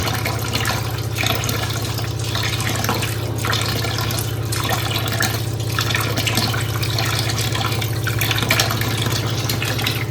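Water is poured into livestock feed and stirred in, a continuous splashing, trickling wash over a low steady hum, with no talking.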